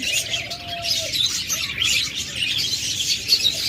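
Caged budgerigars and cockatiels kept for sale with eggs and chicks chirp in a dense, continuous high twitter, one clearer whistle standing out early on, with no talking.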